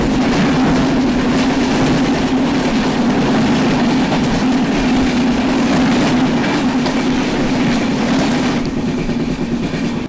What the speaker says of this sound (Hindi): ये क्रॉस हो रही है कटिहार अमृतसर आम्रपाली एक्सप्रेस